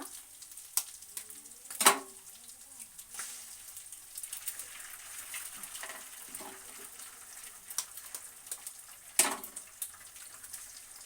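Two eggs frying in a pan for egg rice, a soft steady sizzle with a few sharp clinks and scraping stirs, fairly faint and close, with no talk.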